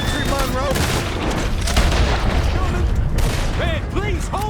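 Gunfire from the Red Dead Redemption 2 mission at the end of Colm O'Driscoll: repeated close shots crackle through a dense battle soundscape while voices talk and shout over it.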